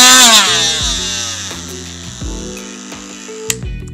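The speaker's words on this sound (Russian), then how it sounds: "нажимаем кнопку включения, инструмент начинает работать." A cordless oscillating multi-tool runs alone nearby, starting with a high whine that drops and steps through speed changes in a steady buzzing drone, with a small click near the end.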